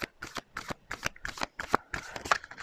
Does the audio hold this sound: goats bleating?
no